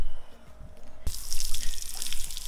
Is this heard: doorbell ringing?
no